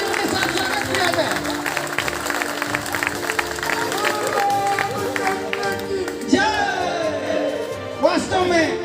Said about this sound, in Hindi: इसलिए जोरदार तालियों के साथ स्वागत किया जाए।